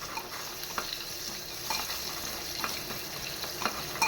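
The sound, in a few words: chilies and curry leaves crackling in hot oil tempering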